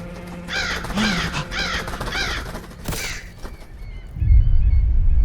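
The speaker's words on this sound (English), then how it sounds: "The hell you want, Crow?" A crow gives four caws in a row at close range, then a final louder one, before a low rumble rises beside a lighthouse.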